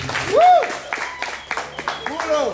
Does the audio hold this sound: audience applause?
yes